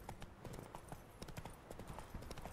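Horse hooves clip-clop at a steady walking rhythm in The Witcher 3: Wild Hunt, close and clear over a low ambient backdrop, with no speech.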